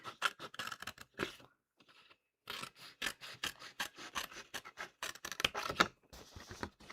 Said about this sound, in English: so I'm going to cut this out carefully